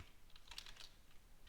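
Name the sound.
typing on a computer keyboard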